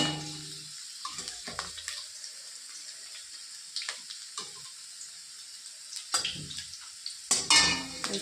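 Potatoes frying in oil left over from frying tilapia, topped up with a little fresh oil: soft, intermittent sizzling with stirring scrapes and clatters. Fairly quiet, with no speech.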